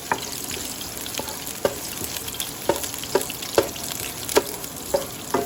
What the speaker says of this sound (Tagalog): Gisa-gisa lang po natin